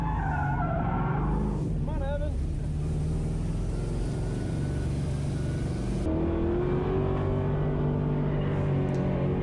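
A BMW 330i, close to stock but with modified suspension, drifting on worn tires, with a loud, sustained engine drone and squealing tire skids rising and falling over the roar.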